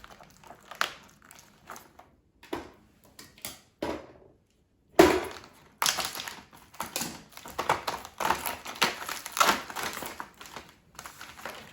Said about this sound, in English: And now I will open a package of frozen pierogies.